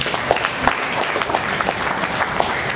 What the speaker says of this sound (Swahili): Tupigie Mungu makofi mazuri.